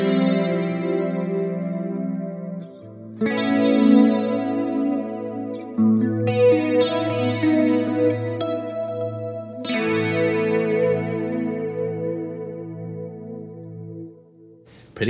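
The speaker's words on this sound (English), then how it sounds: "It's the clean with the acoustic simulator on" Clean electric guitar through a Helix modeler with an acoustic simulator, in a preset: a few strummed chords ring out and decay, each new strum starting bright and fading slowly, close and moderately quiet.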